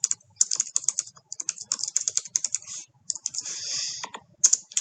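Rapid, uneven typing on a computer keyboard, close and crisp, with bursts of key clicks broken by short pauses and a longer run of keystrokes near the end, no talking.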